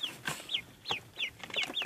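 Young chicks kept with ducklings on starter feed, cheeping in quick, high, repeated peeps while eating, close and fairly loud.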